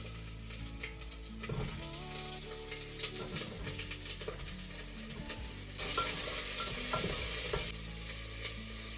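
Onion, garlic and green chilli sautéing in a pan for soya rice give a steady close sizzle, broken by repeated scrapes and knocks of a spoon stirring, with a louder hissing burst near the end.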